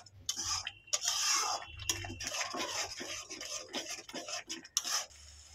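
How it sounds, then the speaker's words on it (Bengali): A spatula stirs and fries spices in a pan for Bengali rohu fish curry, with steady scraping and clinking against the metal and a soft sizzle running throughout, close and continuous with no talk. "ভালো করে মশলাগুলো একসঙ্গে আবারও কষিয়ে নেব।"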